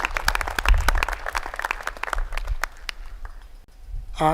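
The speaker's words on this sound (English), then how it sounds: "let's give Joshua a very big round of applause" An audience applauds Joshua at a live-streamed event, a short uneven burst of clapping with some nearby sharp claps that thins out and trails off toward the end.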